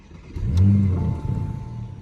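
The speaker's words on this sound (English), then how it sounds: "let's go ahead and start the car up again" The engine of a 2020 Porsche Panamera 4 starts up, a loud, close mid-pitched rev that swells and settles into a steady idle within two seconds.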